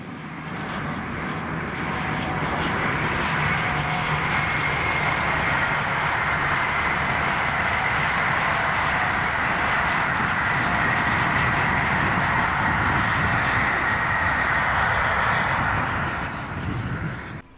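The Blue Pullman charter train, led and tailed by class 43 power cars, roars past in a long, loud, steady engine drone that rises over several seconds, holds, then fades, with no one talking.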